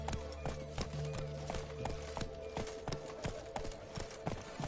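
Horse hoofbeats galloping in The Witcher 3: The Wild Hunt, a quick, steady clip-clop rhythm, close and clear over a low ambient game backdrop.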